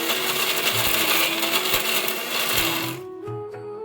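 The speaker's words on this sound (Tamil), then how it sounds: "நம்ம மிக்ஸி ஜாரில் போட்டு அரைச்சி எடுத்துக்கலாம்." A kitchen mixer grinder whirs loudly and steadily as it grinds pirandai (adamant creeper) chutney with salt in the jar, with rattling contents, then cuts off abruptly near the end, leaving a fading motor hum.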